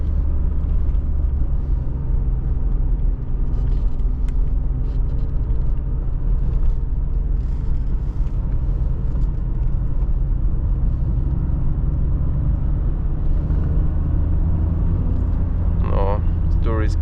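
A 1992 BMW E34 520i with the M50 engine drives along a road, its engine droning and rumbling steadily with constant tyre and wind noise from inside the cabin.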